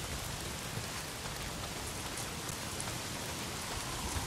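Heavy rain pours steadily in the video game Days Gone, a dense, continuous hiss of drops on surfaces with no breaks, alone and evenly loud throughout.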